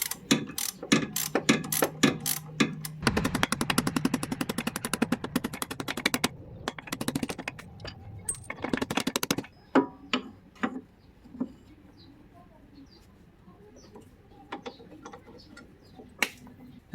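Ratchet wrench undoing bolts on the suspension bushing of a Proton Saga Iswara car: rapid bursts of close, crisp ratcheting clicks, then slower scattered clicks and taps fading toward the end.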